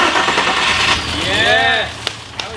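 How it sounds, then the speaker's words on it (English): A VW Scirocco fitted with a swapped-in VR6 engine cranks and then catches, the start rising into a running engine beneath excited voices of people nearby, with a couple of sharp clicks toward the end. "The car cranks and starts."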